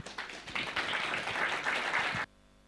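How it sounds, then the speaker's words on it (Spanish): Congregation applauding a church music group at a Sunday service, a dense burst of clapping lasting about two seconds that stops abruptly into near silence. "vamos a dar fuertes aplausos al grupo Canto de Esperanza"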